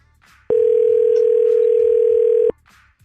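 Telephone dial tone while calling someone, one steady loud continuous tone lasting about two seconds, with faint room noise before and after and no talk over it.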